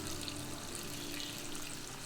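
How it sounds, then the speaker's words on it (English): Rice wine poured into a pot of caramelizing garlic, sugar and braised pork belly, a steady close liquid rush lasting throughout without pause. "Pour in 1 cup of rice wine"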